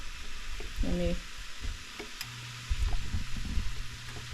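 Carrot pieces go into a Ninja Foodi Pro and sizzle, a moderate frying hiss with stirring knocks and scrapes, heard close with no talking.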